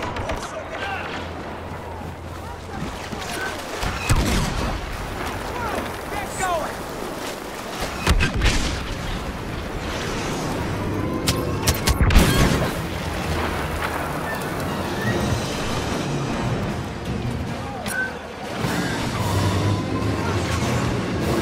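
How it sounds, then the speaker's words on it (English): Airstrike explosions in Star Wars Battlefront, heavy booms and thuds landing through ongoing battle noise, with a few louder blasts standing out amid combat clatter and voices. "Airstrike incoming."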